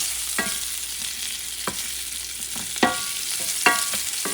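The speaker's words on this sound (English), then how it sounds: "I'm kind of browning a little bit the salchichon" Salchichon sausage sizzles and fries steadily in a pan, with occasional scraping stirs and soft clacks over the continuous crackle, close up and with no talk.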